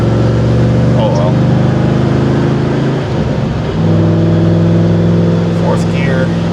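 A Ford Panther-platform car with a swapped-in five-speed manual gearbox drones as its engine pulls through the gears, with a steady low hum, a brief dip at a shift, then renewed engine tone, close and loud inside the cabin.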